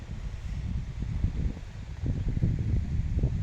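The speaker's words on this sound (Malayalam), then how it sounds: "കാറ്റ് കാറ്റ് കാറ്റാണ് തണവ് കൂട്ടണത്" Cold wind gusts across the misty hills of Eravikulam, Kerala, buffeting the microphone with a low, rumbling roar that swells and eases in uneven waves.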